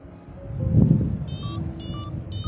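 Short electronic beeps repeat at a quickening pitch over a low, rushing wind noise, a paragliding variometer signalling rising air in a thermal during a cross-country flight around Mont Blanc.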